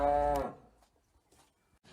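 A cow on a cattle farm lets out a single loud, close, sustained moo that cuts off after half a second, leaving quiet rustling afterward.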